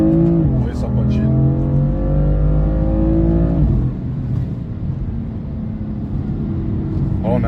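A BMW M4 engine revs hard as the wheels spin, a loud, close roar rising in pitch then settling into a steady drone.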